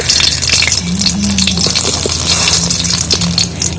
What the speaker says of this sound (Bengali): তেলটা গরম হয়ে গেছে দিয়ে দিচ্ছি তেজপাতা